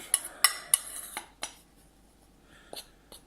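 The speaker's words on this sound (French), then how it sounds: "Donc là je mélange légèrement la farine et la maïzena" Flour and cornstarch are lightly mixed in a bowl, giving a few sharp utensil clinks and taps against the bowl that thin out to quiet scraping and a couple of faint knocks near the end.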